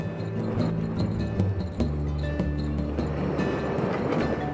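A Chicago CTA elevated train rolls along, its wheels keeping up a loud, steady rumble with rhythmic clacks and metallic clinks from the rails.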